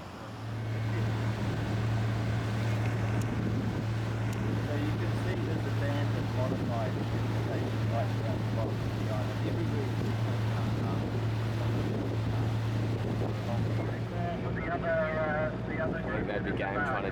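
A zodiac inflatable boat's outboard motor drones steadily throughout under wind buffeting and water splashing, with someone speaking faintly over the engine noise.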